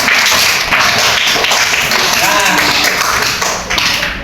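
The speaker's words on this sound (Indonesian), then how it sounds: "Tepuk tangan buat Gibran." Classroom applause for a student returning to his seat after a counselling lesson on managing emotions, a steady wash of many hands clapping at close range with children's voices and chatter mixed in throughout.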